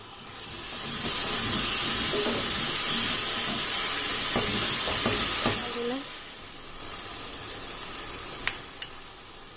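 Tomato paste goes into garlic and ginger paste already frying in a pan for a potato and spinach curry, giving a loud hissing sizzle that holds for several seconds, then drops to a quieter simmer with a few light utensil clicks.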